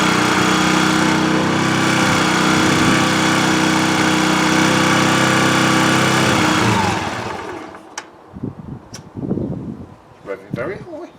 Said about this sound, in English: That's revving very high.